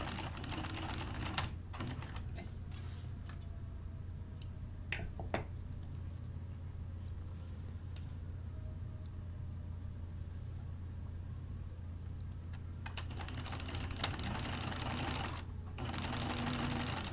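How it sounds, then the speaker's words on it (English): Sewing machine stitching the ends of a blouse collar shut, a steady, soft mechanical whir running throughout with a few small clicks and taps, close but quiet and with no speech. "First, right sides together, and I'm sewing the ends shut."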